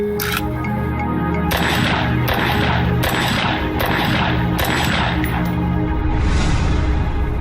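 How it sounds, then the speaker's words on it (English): A sniper fires a rapid series of loud, sharp rifle shots in a synagogue parking lot, the cracks standing out over a dense, constant background. "There was a total of 5 shots."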